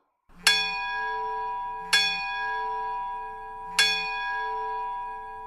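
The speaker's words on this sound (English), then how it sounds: "a bunch of others, including a ship's bell." Ship's bell played from an iPhone bell app strikes three times at roughly two-second intervals, each bright clang ringing on and fading slightly before the next, with no voices over it.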